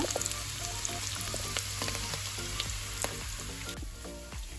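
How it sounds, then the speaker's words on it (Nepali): Taro pieces fry in ghee with a steady, close sizzle and occasional soft stirring clicks and pops, a little quieter and even throughout. "अब एकैछिन फेरि भुट्नु छ।"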